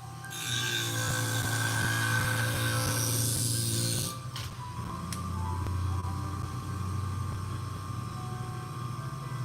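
Industrial scissors sharpened on a grinder: a loud, steady grinding whir with a bright metallic rasp for about four seconds, then a shift to a lower, rougher hum as the blade comes off the wheel.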